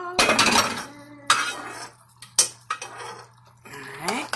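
Utensil scraping and clinking against a cooking pot as steak pasta is stirred, several separate bursts of metallic clatter with quiet gaps between, close and moderately loud.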